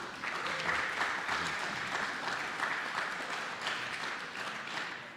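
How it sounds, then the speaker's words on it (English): Steady applause from a crowd at a fan convention, many hands clapping continuously at an even level throughout. "Just one more little round of applause for these wonderful folks."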